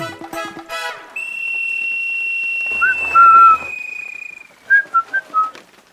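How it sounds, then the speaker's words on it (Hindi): A person whistles to call a dog, with one long steady whistle followed by a few short, chirpy rising notes. The whistling is loud and close, preceded by brief voices. "लोग तो लड़कियों के लिए सीटी मारते हैं, जो कुत्तों के लिए सीटी मार रहे हैं।"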